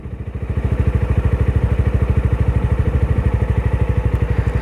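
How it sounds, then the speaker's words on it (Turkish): A motorcycle engine thumps steadily at low revs, close and loud, its rapid even beat rising slightly and holding as the clutch engages. "Şimdi bakın debriyajı yavaşça bırakacağım ve motorun sesini dinleyeceğim."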